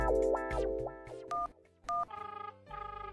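Telephone keypad tones beep in a quick run of separate presses, each a short clear electronic pitch, followed by a pulsing ring tone, all close and without speech, in an animated cartoon police station scene.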